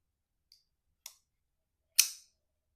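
A Spyderco Tenacious folding knife with titanium scales, running on washers, is flicked open and shut: a few sharp, isolated clicks in near silence, ending in one louder snap.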